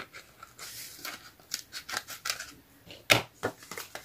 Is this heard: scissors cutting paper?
yes